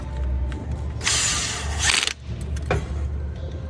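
Bolts being tightened by hand on a Honda J-series engine during oil leak repair, heard as close mechanical ratcheting and clicking over a steady low hum, with a brief louder burst of metallic rattling midway.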